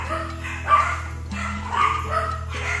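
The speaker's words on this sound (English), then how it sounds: "They get a little vocal about I don't know what. They bark all the time." Dogs indoors in a building let out a few short barks and yips, fairly close but not loud, spaced irregularly over a low steady hum.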